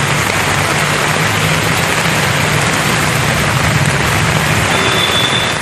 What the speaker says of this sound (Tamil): விட்டுவிட்டு மழை பெய்தது